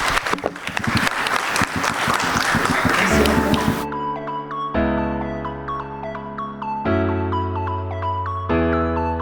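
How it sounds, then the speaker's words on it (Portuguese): Audience applause at a business presentation, a dense burst of clapping for about four seconds that gives way to loud music with sustained tones and chords for the remainder. "Palmas para eles."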